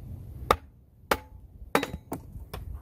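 A kindling firewood splitter is struck five times in uneven succession, each hit a short, fairly quiet knock with a resonant steel ring, close by with low background rumble between blows.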